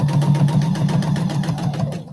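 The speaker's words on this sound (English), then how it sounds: "And now I'm going to sew" A sewing machine stitches quilt binding in a steady, continuous run, its motor hum and rapid needle rhythm close and even throughout, stopping near the end.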